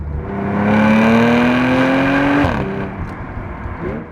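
A supercharged Audi S4 Quattro engine pulls hard from close by as one steady rising rev with a strong whine, then drops abruptly on the lift-off, leaving a quieter idle and a brief burble.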